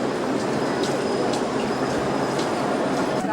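A long train rolls steadily past at a Moscow railway station, a constant loud rumble with rhythmic wheel clicks and faint squeals, going on without a break.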